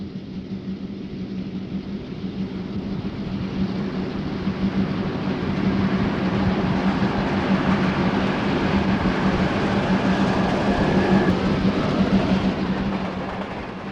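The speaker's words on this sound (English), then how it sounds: "This scene is in 1972, with 2 E units used on this freight train." A 1972 RF&P freight train led by two EMD E8 diesel units rolls past with a steady diesel drone and rumbling wheel noise that slowly swells and then eases off a little, with no voices.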